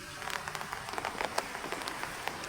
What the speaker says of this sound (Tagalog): Ulan pa rin kami.